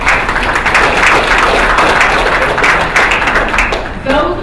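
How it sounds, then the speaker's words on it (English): A round of applause at a college-sports talk event, dense clapping from an audience at a steady loud level that fades slightly at the very end. "Let's give him another round of applause."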